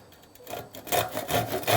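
Waxed 8 TPI hand rip saw starting a cut into hard timber, rhythmic rasping strokes building from quiet to firm and close, about five pushes, no talking.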